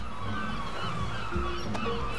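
Seagulls in the adventure game Broken Age honk and squawk in repeated goose-like calls over a steady bed of ambient game music, fairly close and continuous.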